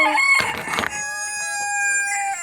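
Rooster crowing among hens in a farmyard, one loud close crow with a long drawn-out harmonic call, preceded by a brief clucking burst.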